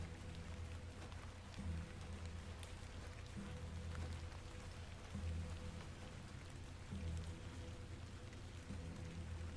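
Steady rain in The Excavation of Hob's Barrow video game makes a soft, continuous patter and hiss, faint and even throughout with no talk over it.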